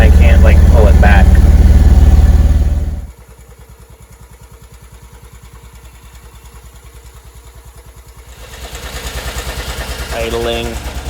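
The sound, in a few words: BMW Isetta engine idling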